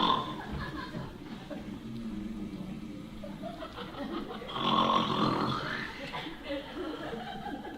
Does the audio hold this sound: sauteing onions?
no